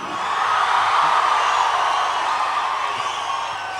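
Dense, sustained roar of a large crowd shouting and cheering at a Telugu film audio launch event for Greekuveerudu, loud and continuous with no distinct voices standing out.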